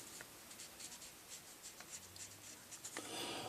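A cheap, poor-quality paintbrush drags across paper in soft, faint scratchy strokes, a steady rubbing texture with small repeated swishes and no talk.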